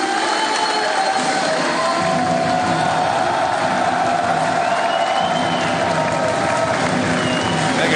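A wrestling crowd of about 1,200 fans in Paris applauds and cheers the winner of a match, a loud, continuous wash of clapping and crowd noise filling the whole stretch.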